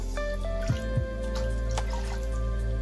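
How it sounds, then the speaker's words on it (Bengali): Water is poured into a cooking pot to make sugar syrup for a sweet potato dessert, a steady close trickle with a few dripping splashes early on and no voices. "আমি এখন শিরা বানানোর জন্য জল নিয়ে নেব।"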